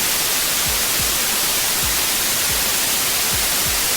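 White noise plays as a steady, loud broadband hiss with no change in level, and faint low thumps sound now and then beneath it.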